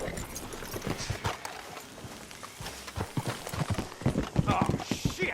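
Horses' hooves clip-clop in Red Dead Redemption 2, a steady near rhythm of hoof strikes on the ground as characters talk over the sound.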